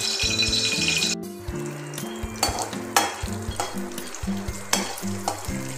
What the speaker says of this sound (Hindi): हम पहले घी इसमें डाल के कढ़ाई में डालते हैं और हम लोग ड्राई फ्रूट पूरा रोस्ट करते हैं